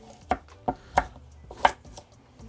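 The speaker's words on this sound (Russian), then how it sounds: "И морковку нарезаем" Knife chopping a carrot into half-rings on a cutting board for lagman, five distinct sharp cuts at an uneven pace, close and clear with no talking.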